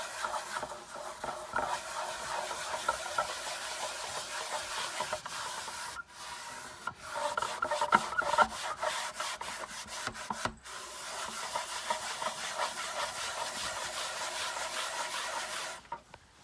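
A sock loaded with wax is rubbed over secondhand wooden furniture in steady back-and-forth strokes, a close, continuous scrubbing with a couple of brief pauses.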